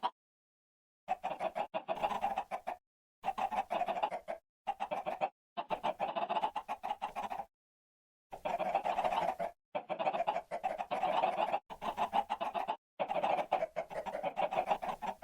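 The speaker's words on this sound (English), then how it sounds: "Alright, chickens, come on out." Chickens in Minecraft with the Cobblemon mod cluck loudly and close in repeated bursts, separated by short silences, with no talking over them.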